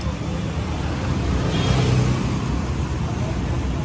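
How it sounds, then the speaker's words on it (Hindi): A KTM RC 200 motorcycle engine runs and revs nearby, a steady loud drone that swells briefly in the middle before settling back to idle-like rumble. "भैया चालू कर रहे, साउंड सुना रहे,"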